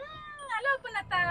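A cat meows several times in quick succession outdoors at night in Mumbai, short, close, clear cries repeating in a rising, insistent rhythm.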